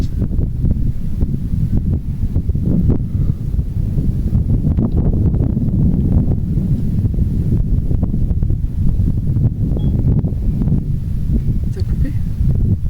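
Wind buffets the microphone in loud, continuous low gusts and rumbles that blow throughout, mixed with rustling.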